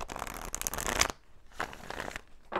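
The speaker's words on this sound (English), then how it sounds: "I've already shuffled these a bit." A deck of tarot cards is riffled and shuffled close up, two bursts of crisp flapping card noise separated by a short pause.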